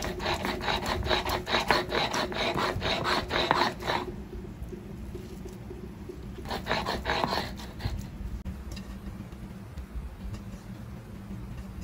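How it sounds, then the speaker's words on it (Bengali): Chepa shutki and bottle gourd leaves being ground on a flat grinding stone, giving close, repeated rasping strokes in bursts with short pauses between them. "এখন আমি এই চাপা শুটকি আর লাউ পাতার ভর্তাটা পাটায় বেটে নিচ্ছি।"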